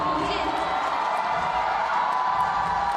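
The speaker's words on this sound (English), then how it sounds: "that crowd cheer you heard was for Janja Garnbret" A crowd at a lead climbing semi-final in Wujiang cheers for climber Janja Garnbret, a steady roar of voices and whoops in a large venue, heard loudly and continuously throughout.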